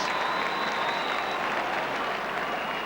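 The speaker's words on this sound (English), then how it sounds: "Sympathetic round of applause." Sympathetic applause from a hurling crowd at the 1996 Munster Hurling Final between Limerick and Tipperary, a steady wash of distant clapping across the whole stretch with no talk over it.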